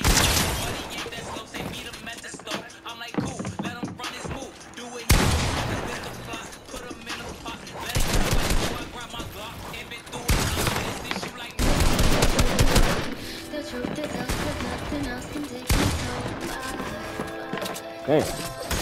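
Rapid bursts of automatic gunfire and sharp single shots fill a video game firefight, loud and close with repeated fusillades and short pauses, while players talk over the action.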